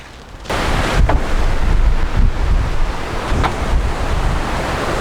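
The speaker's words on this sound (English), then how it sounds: "The wind is blowing pretty strong here today, so if you hear some wind, excuse us." Strong wind gusting outdoors beside an offset smoker, a loud, continuous roaring rumble buffeting the microphone after a brief quieter start, with no speech.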